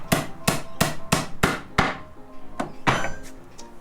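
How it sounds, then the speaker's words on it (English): A nail puller's hammerhead backside strikes repeatedly, six sharp metallic whacks in a steady rhythm followed by a few lighter, more scattered taps, close and alone without speech. "The nail puller also has a hammerhead on the backside to drive it back."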